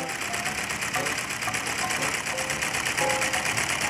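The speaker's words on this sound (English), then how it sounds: "The magnet moves back and forth between the two coils as each of the coils activate independently." A larger Lego solenoid engine runs with its magnet shuttling back and forth between two coils. It gives a fast, even, buzzing clatter that is close and continuous, much like a small machine ticking over.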